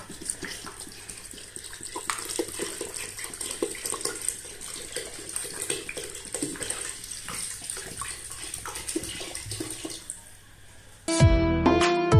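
Two bottles of water pour steadily into a cooking pot of khichuri, a continuous close splashing gush lasting several seconds before it cuts off.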